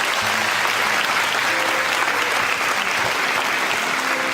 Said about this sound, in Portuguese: Dá uma salva de palmas a Jesus Cristo.